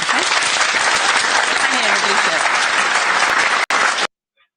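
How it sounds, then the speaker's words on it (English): Audience in Scotland applauding at a political event, dense and loud clapping held steadily for about four seconds before it cuts off abruptly. "And the applause there just sort of sums it up."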